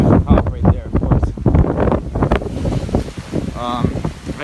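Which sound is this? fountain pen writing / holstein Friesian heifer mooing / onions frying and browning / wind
wind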